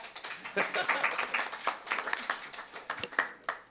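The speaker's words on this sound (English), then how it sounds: "If you guys want to clap now, go ahead" A small group at a regional services committee meeting applauds with scattered, uneven clapping, close by, with voices mixed in under the claps.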